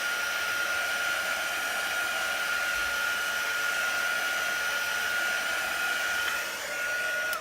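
A handheld hair dryer blows steadily at close range, drying chalk paste on a dollar-store craft piece; a constant whooshing motor roar runs throughout with no talking.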